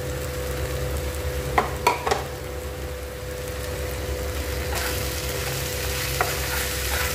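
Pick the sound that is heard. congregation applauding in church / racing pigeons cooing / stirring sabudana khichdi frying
stirring sabudana khichdi frying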